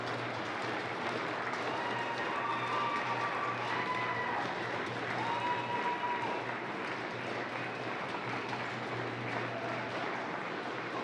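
An indoor crowd at a Major League Table Tennis match cheers and applauds the Florida team in a dense, continuous roar of clapping and shouting that holds steady throughout.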